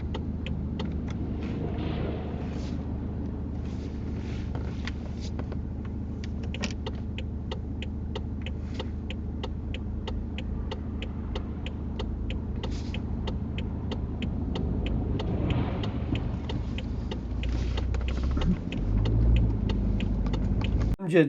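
A car pulls away and drives during a UK mock driving test, a steady low engine and road rumble running throughout with faint clicks, rising slightly toward the end.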